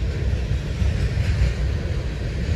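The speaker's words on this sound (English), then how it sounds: "Similar to that train is NS309, I believe." A Norfolk Southern NS309 freight train passes at a Depot Street grade crossing in Berea, Ohio, making a steady, loud, low rumble with a wash of rolling-wheel noise that stays level throughout.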